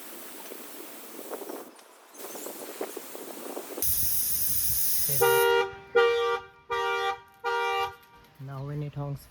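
A Mahindra BE 6 electric car sounds its horn during manual TPMS sensor learning, with a hiss and then four loud, evenly spaced honks followed by a shorter toot.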